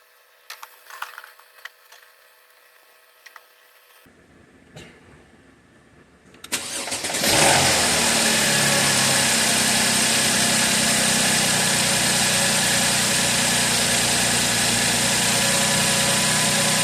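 A 2013 Mercedes ML with a known extended-crank and engine rattle-knocking fault: faint clicks and handling noises, then a brief crank and start into a loud, steady, close idle that runs on alone.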